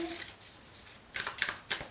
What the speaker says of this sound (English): We are going to shuffle them on camera